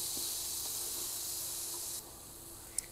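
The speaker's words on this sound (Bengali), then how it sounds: "সয়াবিনটা ভাজা হয়ে গেছে" Soya chunks frying in hot oil give a steady close hiss and sizzle, which drops to a quieter simmer partway through, with a single brief click near the end.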